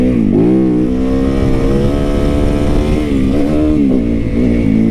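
A motorcycle engine, ridden by its owner who bought it new, revs up and down with repeated throttle twists, loud and close with a rough, steady idle between bursts and no talking.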